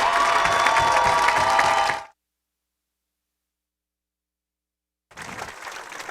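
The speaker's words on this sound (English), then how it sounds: "one thing I'm sure you could hear over the speaker system was the number of applause just coming for all 7 of these seniors" Crowd at a Yale men's lacrosse game against Dartmouth applauding and cheering seniors, a loud dense wash of clapping for about two seconds, then silence, then the applause returning somewhat quieter.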